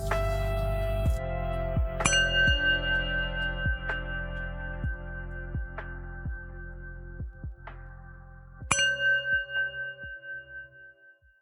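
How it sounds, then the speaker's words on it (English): Meditation chimes opening a chakra meditation session, several bright metallic strikes ringing out with long sustained tones and a low throbbing resonance beneath, fairly soft and alone with no talking. "The show will begin after the following chimes."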